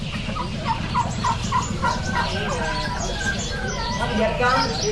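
A large farmed turkey gobbles in rapid repeated bursts at close range, set against a steady low background hum with some voices and bird chirps mixed in.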